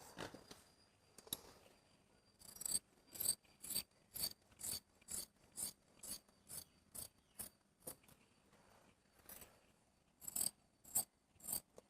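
Scissors cutting cloth for a 3/4 chudidar sleeve: a close series of crisp, rhythmic snips, about a dozen evenly paced blade closures with short scraping tails, quiet otherwise with no talk.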